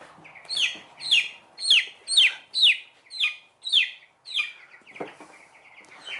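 Young chickens in a chicken tractor give a run of about eight loud, evenly spaced rising chirps and clucks, close by, then trail off into softer calls.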